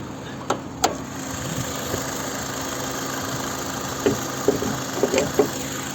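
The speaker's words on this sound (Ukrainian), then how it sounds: "Ось робота двигуна" A 2008 Honda Accord Type S with a 2.4-litre petrol engine and automatic transmission idles with a steady low rumble, a few faint clicks and knocks rising over the hum.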